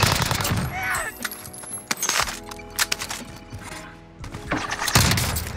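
Rapid bursts of automatic gunfire in Call of Duty Warzone, likely from a CW MP5 submachine gun, crackle in loud irregular volleys with short gaps between them.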